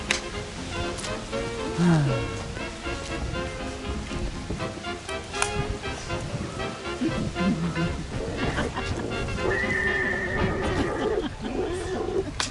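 A horse whinnies during a theatrical street tour of interwar Pagėgiai, with a few rising and falling neighing calls over background murmur and outdoor noise.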